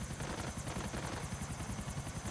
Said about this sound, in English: let's destroy the helicopter.